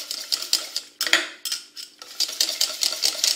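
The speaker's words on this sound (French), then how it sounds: "Je prends donc mes jaunes d'œufs, et je vais les mélanger, vous voyez." Egg yolks are whisked in a bowl for a snow cake, a quick rhythmic series of light tapping and scraping strokes close by, briefly pausing once, with no talking.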